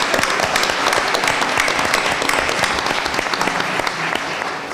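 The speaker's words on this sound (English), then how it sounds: "let's give everybody a round of applause." Audience applause at a municipal candidates forum, a dense and steady crowd clapping that carries on throughout at even volume and tapers slightly at the end.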